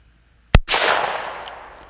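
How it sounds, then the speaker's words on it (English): A Ruger Blackhawk revolver with a 6-inch barrel fires a single CCI .357 shotshell at close range: one sharp, loud report with a long, bright noisy tail decaying over more than a second. "Okay, 6-inch barrel with the Ruger Blackhawk, 5 feet."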